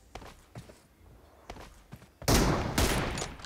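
Loud gunshot bursts from a mobile shooter video game in an M24 sniper team deathmatch, two sharp broadband blasts arriving in the second half after quieter footstep-like taps.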